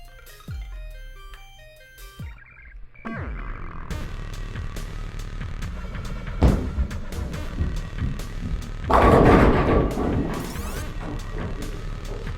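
An aggressive asymmetrical sanded bowling ball crashes into the pins on a long oil pattern, with several impact bursts and clattering pins amid alley background noise and a chime-like tone early on.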